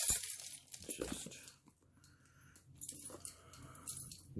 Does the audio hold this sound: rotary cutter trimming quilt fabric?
no